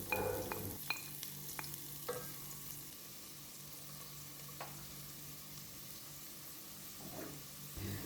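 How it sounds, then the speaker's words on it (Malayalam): Onions and green chillies sauté in hot oil with a faint, steady sizzle while a spoon stirs and scrapes the pan in scattered clicks, no one speaking. "പച്ചമുളകും സവാളയും ചെറുതായിട്ടൊന്ന് വഴറ്റിയെടുക്കുക."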